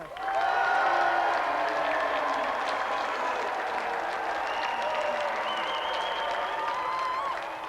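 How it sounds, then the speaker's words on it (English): A studio audience at a video-games show applauds and cheers, a loud, continuous roar of clapping with whoops that holds steady for several seconds before tapering at the end. "So let's have another round of applause for Scott Naylor and Nintendo champion Thoma"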